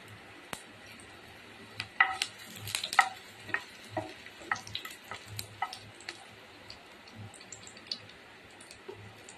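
Soft sizzling of garlic frying in oil with scattered clicks and stirring taps, quiet and close, no talking.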